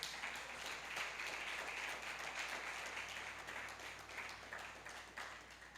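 A congregation applauds during a church thanksgiving service, a steady wash of many hands clapping at moderate level, dense and even throughout with no speech on top.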